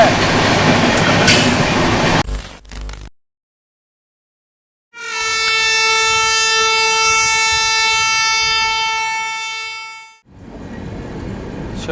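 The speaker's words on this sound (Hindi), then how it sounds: "तो ये रहा कुछ अपनी हावड़ा राजधानी पैरेलली ओवरटेक करने जा रही है कोलफील्ड एक्सप्रेस को" The Howrah Rajdhani Express overtakes the Coalfield Express on a parallel track. Loud rolling rumble breaks into a brief silence, then a long, steady horn blast sounds close and strong for about five seconds before fading out.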